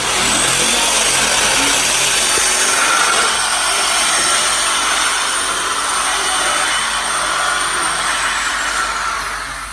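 Dodge Hellcat with a Corsa Xtreme active exhaust, valve open, giving a steady loud broadband roar with a bright hissy edge that holds nearly constant before easing slightly at the end.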